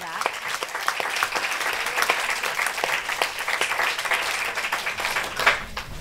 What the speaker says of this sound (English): can we just give them all a round of applause for that?